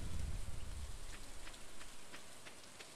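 Steady rain pattering in the farming game Stardew Valley, a soft continuous hiss of drops that fades slightly toward the end, with no talking.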